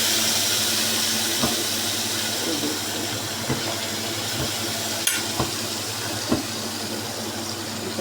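Frozen kadhi dropped into hot ghee sizzles steadily in the pan, with a few sharp clinks and scrapes of stirring scattered through the hiss, close and moderately loud, with no voices.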